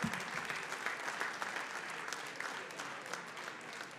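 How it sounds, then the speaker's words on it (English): Steady applause from an audience at the Bruin Benefit gala, clapping for the Franciscan Friars, a dense, even wash of many hands that holds for the full four seconds with no voices on top. "Give them a round of applause."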